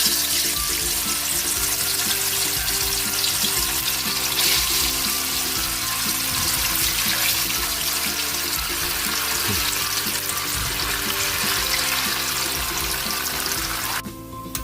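Tofu fries in oil with a dense, steady, rushing sizzle that stays loud and continuous throughout before cutting off abruptly at the end, with no speech.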